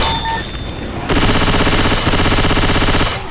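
Rapid automatic gunfire from the video game Left 4 Dead 2 rattles loud and dense in a sustained burst that lasts about two seconds and then cuts off.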